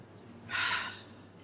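A single deep breath during a guided relaxation exercise, a brief soft airy exhale rising and fading within about half a second over quiet room tone.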